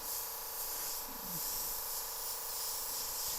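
An airbrush sprays Createx paint at 50 PSI onto a T-shirt, a steady close hiss that continues unbroken, with a faint background hum.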